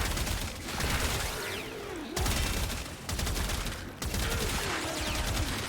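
Rapid bursts of gunfire from a weapon fired at heavy gunner enemies in the shooter game Warframe, with several long sustained volleys separated by brief pauses.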